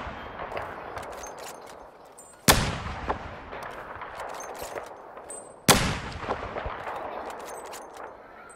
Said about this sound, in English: Let's try shooting.